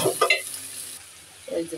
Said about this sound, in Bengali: এই যে পেঁয়াজটা একদম ভাজা ভাজা হয়েছে।